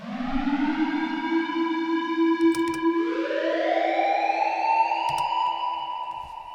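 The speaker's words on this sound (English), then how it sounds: "This is a siren." A wailing siren sound effect in a tearout dubstep production holds a steady tone, then glides upward to a higher pitch and sustains, loud and alone with faint clicks.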